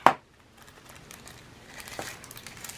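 Plastic bag from a diamond painting kit being cut and handled: a sharp crinkle at the start, then quiet, scattered soft rustles and taps close by.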